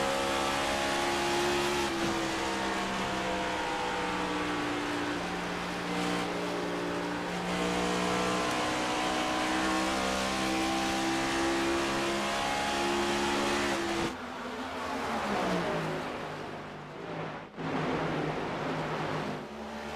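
Race cars lapping Dover Motor Speedway in a sim racing cup series produce a loud, continuous engine drone with layered harmonic whine that shifts pitch as the cars accelerate and decelerate, with a brief dip partway through.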